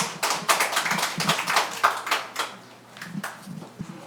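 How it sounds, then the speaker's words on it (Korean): Sparse, uneven clapping from an audience at a Korean redevelopment briefing, a few hands striking at irregular intervals rather than a full ovation, moderately close and fading after a few seconds. "박수 한번 주십시오"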